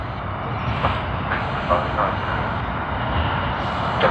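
Airliner taking off at Sydney Airport, a steady broad engine roar heard from a distance with slight swells, a voice talking over it.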